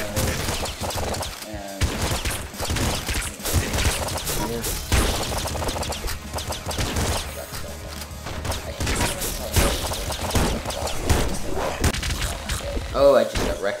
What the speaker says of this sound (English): So with the shotgun, the shells actually bounce off the stone.